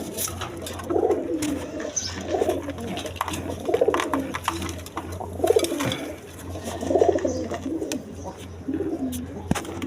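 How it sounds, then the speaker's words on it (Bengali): Red Gola pigeons, a pair with a chick, cooing over and over in low throaty rolls close to the listener, with brief rustling and small clicks between phrases. "খুব ভালো জাতের কবুতর।"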